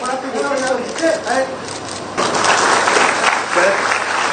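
An audience claps at an event marking an MOU between the chief minister's school education department and HCL Tech. A speaker's voice comes first, then a dense wave of applause rises and holds for the last half.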